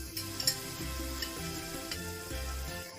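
Onion hits very hot oil and sizzles in a pan while being cooked for a braised chicken dish, a soft steady frying crackle with faint clicks and light stirring taps, no voices.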